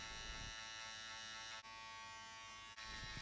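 Electric hair clippers buzz steadily and close up while trimming hair during a self-cut mid fade, a continuous loud drone with two brief dips, with no talking.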